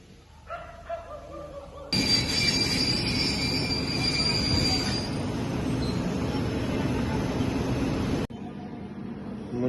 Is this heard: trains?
yes